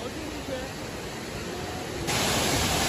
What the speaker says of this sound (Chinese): 这个瀑布好长啊